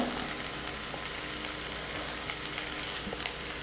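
Chickpea sundal with grated coconut sautéing in a pan gives a steady, close, loud sizzle with faint stirring scrapes throughout, no voices.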